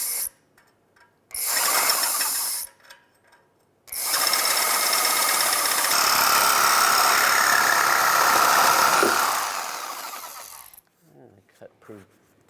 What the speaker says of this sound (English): I'm just going to use a reciprocating saw to cut through this.